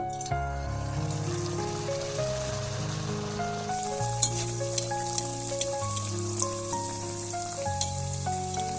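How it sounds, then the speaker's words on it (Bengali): Cauliflower kachori, a layered crispy fried pastry, sizzles steadily in hot oil with a dense, continuous crackle and scattered pops; steady level throughout, no talking, with faint tonal background music running underneath. "তেলটা গরম হয়ে গেছে এবার এর উপর আমি কচুরিটা ছেড়ে দেব"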